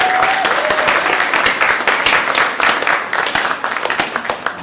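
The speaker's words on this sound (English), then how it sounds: "Round of applause for Mike," A live convention-panel audience breaks into sustained applause and clapping across a game-show style pun contest, dense and loud throughout, with a brief voice faintly audible near the start.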